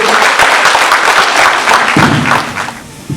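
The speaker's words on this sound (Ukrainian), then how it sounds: "І я хочу, щоб ви гучними оплесками привітали Мирославу Михайлюк" Audience applause at a regional arts weekend concert in Sokal district, Ukraine, a steady dense clapping wash that fills the stretch and thins slightly near the end.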